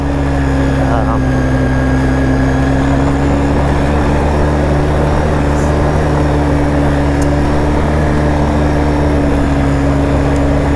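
A 2012 Polaris Sportsman 800 EFI ATV with an inline twin pushrod engine runs steadily, its close, even drone holding a constant pitch without letup.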